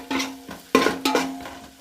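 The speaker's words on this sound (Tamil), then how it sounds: "சேர்த்து நல்லா அந்த பச்சை வாசனை போகிற அளவுக்கு நல்லா வதக்கிக்கலாம்." Onions and curry leaves being sautéed in a pan for bone soup: a spoon scrapes and clanks against the pan in a few sharp strokes, each ringing and fading, with a soft sizzle underneath.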